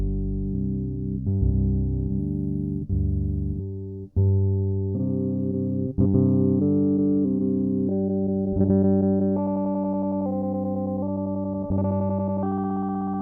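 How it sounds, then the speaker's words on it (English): Sustained guitar tones run through a Poly Form effects pedal shift in harmonized pitch steps as its pitch knob is swept, with layered, slightly distorted chorus-like textures and brief breaks between steps. "I'll sweep through the pitches with the pitch knob."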